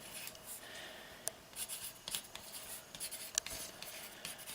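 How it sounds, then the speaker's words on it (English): A pencil writes on a plant label, close and quiet, in short scratchy strokes with small taps between them. "what I want to do is with pencil, what we want to do is mark the name down here"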